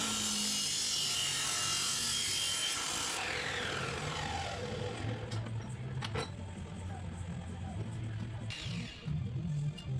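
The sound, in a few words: cutting reclaimed metal pieces with a grinding-stone cut-off saw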